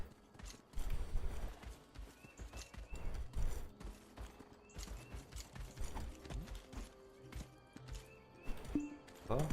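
A horse's hooves clip-clop in the online game Black Desert Online, an irregular stream of thudding steps close by, with a voice talking over parts of it.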